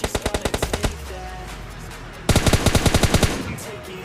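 Fully automatic bursts from an MK14 rifle in the Free Fire mobile shooter: a rapid string of about ten sharp shots, a short lull, then a second loud burst of similar rhythm, close and dominant.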